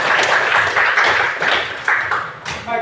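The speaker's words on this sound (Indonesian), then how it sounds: "Sekali lagi kita beri tepuk tangan untuk kelompok" Applause from a classroom of university teacher-training students for a group after its presentation, a dense wash of clapping that swells and fades in waves for about three seconds with no talk over it.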